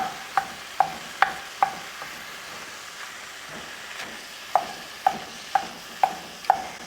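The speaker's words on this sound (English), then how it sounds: "I'm just going to cut that up with a kind of a wooden spatula here" A wooden spatula chops ground beef and Italian sausage in a pan, giving sharp scraping taps in two bursts of about five strokes each, with a faint sizzle running beneath and no voices.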